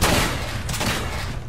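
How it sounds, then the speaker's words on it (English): Shotgun fire in the video game Fallout 4 comes through as a loud, dense burst of gunfire and booming noise that fills the whole stretch with no clear gaps. "How the hell do I miss both shots of the shotgun?"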